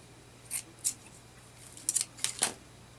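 Scissors snip a small piece of paper for a junk journal in about five short, crisp, close cuts, two spaced apart and then a quicker cluster, against a quiet background.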